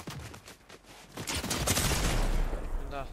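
Gunfire from a solo enemy in an online trio ladder video game match, rapid bursts of shots swelling into a loud close fusillade, with a player's voice briefly heard.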